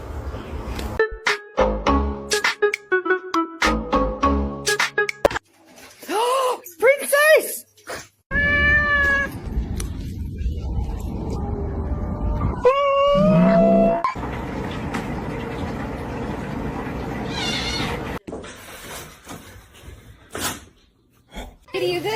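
A cat meows repeatedly, with drawn-out, rising and falling calls coming in irregular bursts and pauses, close by, while a person talks in between.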